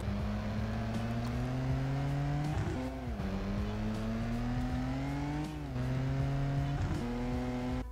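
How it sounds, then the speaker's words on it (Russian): A car engine in a multiplayer driving game, a BMW M4, drones steadily at a constant drive, its pitch dipping and climbing again a few times as the revs shift, with no talking. "нам нужно сесть в какой-то автомобиль и уже прочекать как бы звук его"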